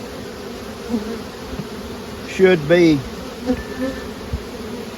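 Nurse bees hum steadily on frames being added to a small swarm, a close, continuous buzz with a few short voice fragments over it.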